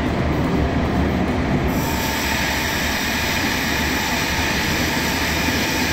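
Train moving through the railway station at Zurich airport in Switzerland, a loud steady rumble of wheels and carriages with a high metallic squeal along the rails, close by and continuous.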